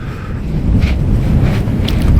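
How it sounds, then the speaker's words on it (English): Gusty wind buffets the microphone on the cliff tops of Bennan Head on the Isle of Arran, a loud low rumble swelling and easing without any talk. "It's a windy day today, and it's going to get windier"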